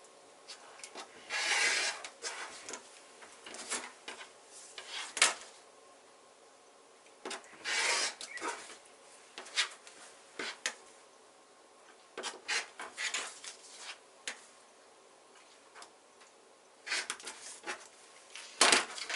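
Fabric trimmed on a foundation paper-pieced quilt block, a series of short scraping and cutting strokes separated by quiet pauses, close and fairly faint, with no talking.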